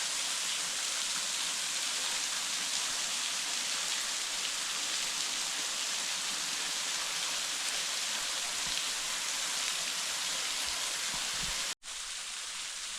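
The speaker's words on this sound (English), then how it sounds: "Here's a little closer view of the waterfall with the cave down below." A small waterfall trickles over the mouth of a cave at Whiteoak Sinks in autumn, producing a steady, even hiss of falling water from close by that continues unbroken, with a short dropout near the end.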